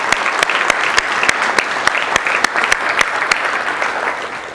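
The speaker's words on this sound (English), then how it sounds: "Can we give them a round of applause?" A conference audience at a state transportation department tech event gives a round of applause. The clapping is loud and sustained, with sharp, regularly spaced claps from someone close by punctuating the steady crowd noise.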